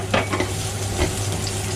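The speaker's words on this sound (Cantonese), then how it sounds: "咁跟住咧就落咗啲蒜頭同埋乾葱，" Garlic and shallots stir-fry in a hot wok with a close, continuous sizzle and crackle. Spatula strokes scrape and toss in quick bursts.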